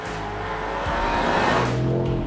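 A Range Rover Sport SV with a BMW-sourced 4.4-litre V8 drives under load, its deep engine note swelling and holding steady at close range with a faint tyre hiss and no talk.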